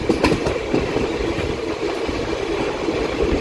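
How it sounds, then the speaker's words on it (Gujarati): A passenger train hauled by a WAP5 electric locomotive picks up speed on a run from Anjar toward Gandhinagar, with loud continuous wheel clatter and rumble on the rails close by, no talking. "આપણી ટ્રેને સ્પીડ પકડી લીધી છે."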